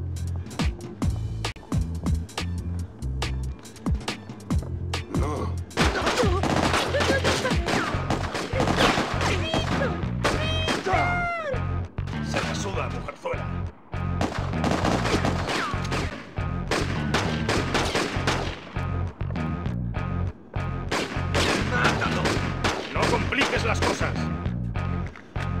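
Desert Eagle gunfire in The Getaway Black Monday, with loud repeated shots in irregular bursts among other game effects and a voice speaking over parts of it.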